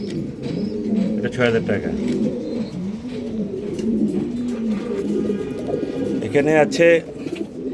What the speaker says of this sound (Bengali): দেখেন বিশাল বড় কবুতর ভাই, বিশাল বড় কবুতর।